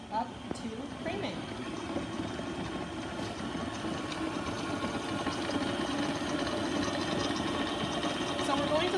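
Stand mixer running on its creaming setting as it beats pate sucree dough, a steady low motor hum and rhythmic whir that grows slightly louder, heard faintly at a moderate distance.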